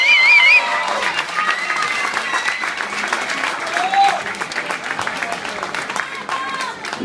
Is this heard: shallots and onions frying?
no